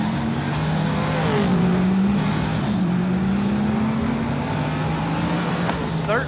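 Race car number 4 out on track in qualifying, its engine droning loud and close with rising and falling pitch as it works through gears and corners, steady throughout with voices faintly underneath.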